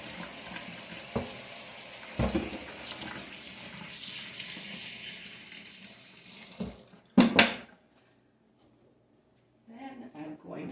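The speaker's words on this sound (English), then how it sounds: "Wash my meat real quick." Tap water runs steadily into a sink while meat is rinsed for a crock-pot smothered steak, a close continuous splashing hiss with a few knocks and a louder splash before the flow stops, with someone talking over it.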